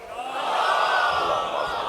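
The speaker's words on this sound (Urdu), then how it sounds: "ایک اور صلوات پڑھیں" A gathering at a Muharram majlis recites salawat in unison, a brief swell of many voices chanting together.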